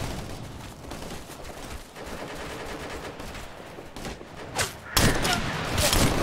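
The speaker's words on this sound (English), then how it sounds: "This is Alpha Team! We're under fire!" Gunfire in the video game Operation Flashpoint: Red River, dense sustained shooting with a louder burst near the end, voices shouting over the firing.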